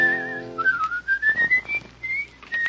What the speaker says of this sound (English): I want them to hear you whistle.